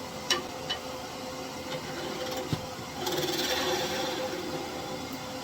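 Wood lathe spinning a walnut glue block at about 1100 RPM, giving a steady, continuous whir with a few faint knocks, and a rougher, brighter hiss of rubbing from about the three-second mark onward; no talking.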